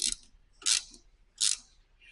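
ATV handlebar clamp bolts being snugged down with a ratchet: three distinct clicking bursts of ratcheting, evenly spaced and close, with quiet gaps between them.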